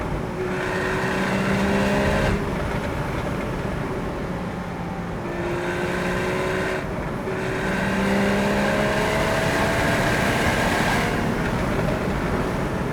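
A Porsche Boxster 981 S with its mid-engine note droning steadily at speed through bends, pitch rising and falling with gear changes, loud and continuous with no talk.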